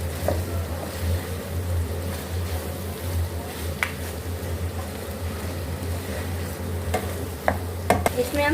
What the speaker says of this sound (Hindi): इन सबको हम अच्छे से मिक्स कर लेंगे